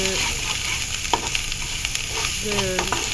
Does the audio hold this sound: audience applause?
no